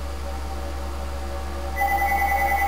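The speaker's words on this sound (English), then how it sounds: "And hold on, my phone is ringing." A phone rings, sounding as a steady electronic tone that gets louder partway through, over a constant low hum.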